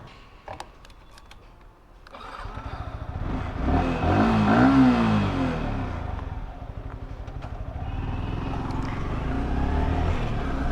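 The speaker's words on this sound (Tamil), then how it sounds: "பெட்ரோல் ஃபில் பண்ணி நம்ம வண்டி ரேவ் பண்ணாவே அந்த மான்ஸ்டர் ஃபீல் நம்மளுக்கு கிடைக்கிது" A motorcycle engine revs after a petrol fill-up, its tone rising to a peak mid-clip and holding at a steady loud drone, close by, following a few light clicks at the start.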